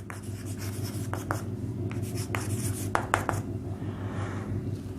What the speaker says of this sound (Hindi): यहां मैं लिख रहा हूं